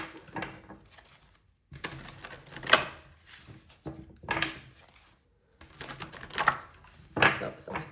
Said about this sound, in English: I'm going to shuffle here